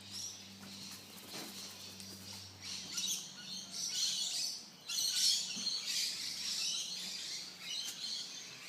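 Wild king parrots call with high chirps and squawks, several overlapping bursts at moderate distance over faint background hum.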